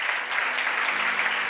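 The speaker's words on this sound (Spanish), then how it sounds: "Si yo fuera tú, le diera un aplauso grandísimo" A church congregation applauds during a Spanish-language sermon, a dense, bright wash of clapping that holds steady and fairly loud for the whole moment.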